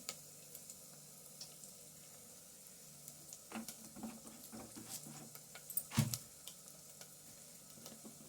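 Oil heats in a hot silver pan, giving a faint, quiet sizzle with scattered soft pops and a sharper clink partway through, with no talking.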